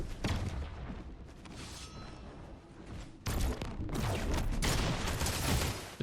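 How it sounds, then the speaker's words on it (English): Rapid, loud bursts of shotgun fire from an Oni shotgun in Fortnite Zero Build, booming and crackling in dense clusters, with a brief dip before a heavier barrage of shots. "Misses one Oni shotgun shot"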